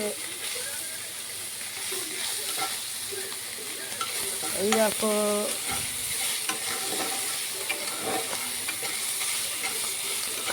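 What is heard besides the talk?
dry red chilli and mustard seeds tempering in oil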